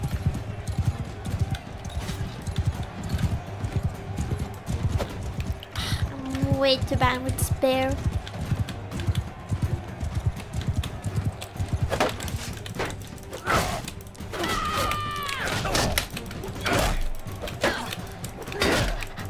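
Horses clip-clopping in the Realm of Thrones mod of a video game, rapid hoof thuds mixed with mechanical clanks and ratchet-like clicks, while players talk and shout excitedly over the action.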